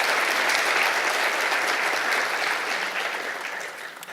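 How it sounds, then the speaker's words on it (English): An audience at a county education awards ceremony applauds an honoree in a dense, steady wash of clapping that holds loud and even, then eases slightly toward the end. "Let's give James a round of applause"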